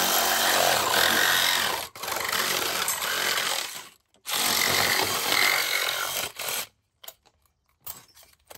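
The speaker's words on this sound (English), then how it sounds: "So now I'll cut this 5'1". That's 61 inches. I'm using that same metal blade." A power saw fitted with a metal blade cuts a pipe to 61 inches, roaring loudly in two long passes broken by a brief pause, then dropping off into a few faint clunks.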